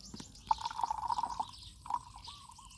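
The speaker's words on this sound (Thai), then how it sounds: "เทน้ำใส่ตัวนี้ให้เต็มเลยลูก" Water pours steadily into a container while watering vegetables, a bubbling, gurgling fill that runs for about a second, pauses, then resumes more softly, close by with no talking.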